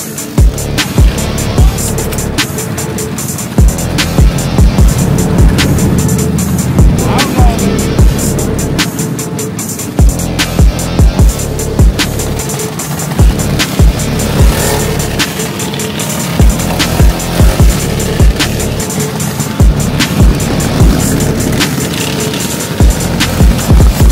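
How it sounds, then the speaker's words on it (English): Minibike drag racing at a track, small engines buzzing and revving loudly and continuously with repeated sharp pops and clatter, a busy outdoor event with no clear talking. "we have got mini bike drag racing going on next"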